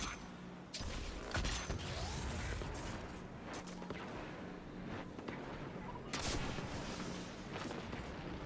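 Dense, continuous gunfire and booming weapon effects from the video game Destiny 2 fill the whole stretch with loud bursts and mechanical clatter, up close with little break.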